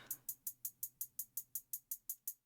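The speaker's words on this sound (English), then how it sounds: "Then different hi-hats." Crisp electronic hi-hats in a beat, a fast even run of about twelve bright ticks with short decays over two and a half seconds, faint above a soft low hum and with no voices.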